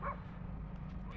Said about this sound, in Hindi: आपको बैकग्राउंड में ये आवाज़ आ रही होगी कुत्तों की